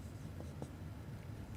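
Pen scratching across paper while a calculus derivative equation is written down, a short stretch of soft close strokes with a couple of sharper marks over faint room noise.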